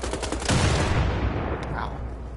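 Gunfire in the World War II shooter Wolfenstein: The Old Blood: a loud, dense crackle of rapid shots with a heavy low boom near the start, sustained and close throughout.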